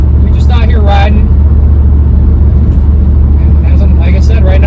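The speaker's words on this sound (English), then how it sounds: "right now I'm doing 60 miles an hour, and this thing is just purring like a kitten" An LS-swapped OBS Chevy truck cruises at 60 mph, its low engine and road rumble steady and loud throughout, with someone talking over it.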